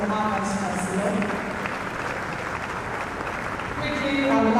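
Steady applause from a crowd at a higher education event for a Vice Chancellor fills the whole stretch, with a voice speaking over it and the clapping swelling slightly near the end.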